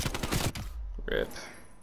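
AK-47 automatic fire rattles in Rogue Company, a rapid burst of closely spaced loud shots lasting about half a second, followed by quieter game tones and effects.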